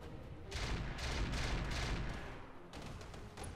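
Turret gunfire in the mech video game Flashpoint: several dull, distant booming bursts rolling one after another, moderately quiet with a rumbling tail.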